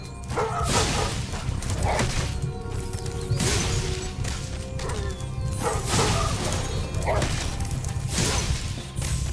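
Two dogs bark repeatedly in Spyro Reignited Trilogy, sharp game barks mixed with whooshes, crashes and thuds of combat, loud and close throughout.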